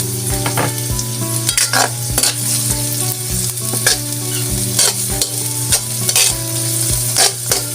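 Spicy chicken frying and sizzling in a pan while being stirred, with repeated scraping strokes of a utensil and a steady hiss underneath, close and fairly loud.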